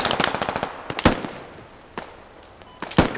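Grenade explosions and gunfire in the military shooter Squad: a rapid string of sharp cracking bursts, then a heavier blast and a few scattered pops spaced over a few seconds.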